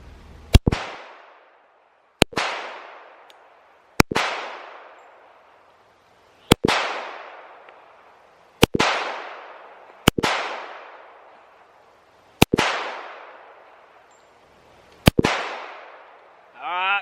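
Eight sharp shots from an Auto Ordnance 1911A1 pistol, fired one at a time at uneven intervals of about two seconds, each loud crack followed by a short decaying echo.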